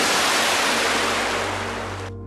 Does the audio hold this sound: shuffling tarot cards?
no